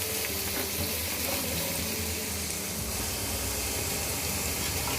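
Radish pieces sizzle steadily in a hot pan while being stirred for mooli ke patte ki sabzi, a continuous broadband frying hiss with faint scraping, close and even throughout.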